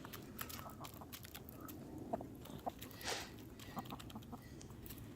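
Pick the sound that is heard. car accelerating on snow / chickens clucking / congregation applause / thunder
chickens clucking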